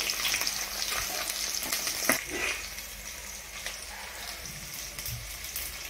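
Mustard seeds fry in hot oil alongside onion and cumin, making a continuous close sizzle dotted with sharp crackles and small clinking pops, plus a few stirring knocks partway through.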